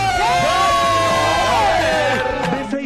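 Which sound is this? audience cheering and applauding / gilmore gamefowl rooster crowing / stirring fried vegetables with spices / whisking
audience cheering and applauding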